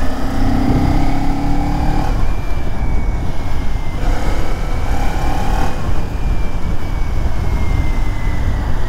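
A 2023 Kawasaki Ninja 400 sports motorcycle pulls hard under acceleration, its engine note climbing steadily through the revs, dipping briefly at shifts, and rising again, close and continuous throughout.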